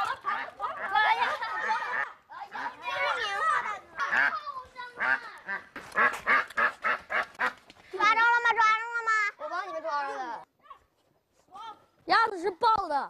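Duck quacks rise in short honking bursts, loud and close, between stretches of excited talk and laughter from several people outdoors at a rural site in Jinggangshan.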